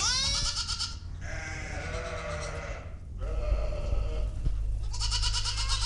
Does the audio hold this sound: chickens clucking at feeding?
no